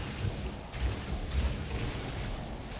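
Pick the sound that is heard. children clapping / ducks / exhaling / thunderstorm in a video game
thunderstorm in a video game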